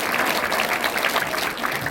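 Congregation applause at a Korean church gathering, a steady wash of many hands clapping together, loud and continuous for the whole moment.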